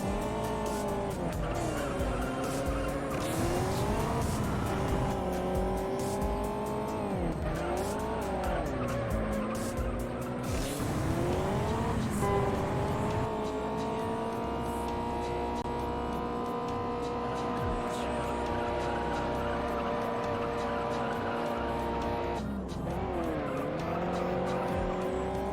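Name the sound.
race car driving and tire squeal in the video game Juiced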